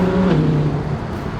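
A naturally aspirated 5-litre V10 in an Audi R8 V10 Plus Spyder holds a loud, close, steady engine roar with a slight rise in pitch, heard alone without talk.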